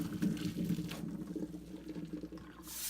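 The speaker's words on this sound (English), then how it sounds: "Then we're going to drain the bean sprouts in a colander" Blanched bean sprouts drain through a colander, giving a soft, close trickle and splash of water that thins out toward the end.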